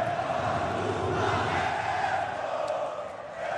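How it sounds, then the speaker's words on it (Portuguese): Vasco supporters chant together in the stands at a Flamengo versus Vasco Campeonato Carioca 2014 match, a dense, loud, sustained crowd roar that eases slightly toward the end. "Torcida do Vasco vai soltando o grito."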